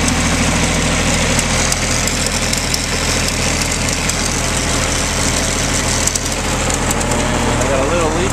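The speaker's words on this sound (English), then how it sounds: "the tractor's running, and we're pumping water out of the spring with a little PTO pump." A tractor engine running a small PTO pump, pumping water from a spring, runs steadily at a constant idle-like rumble, loud and close, with a continuous mechanical drone throughout.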